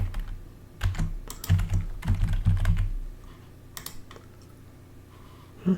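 Typing on a computer keyboard while adding a category in an admin panel gives a short run of close, uneven key clicks in the first three seconds, then near quiet with one last click at the end.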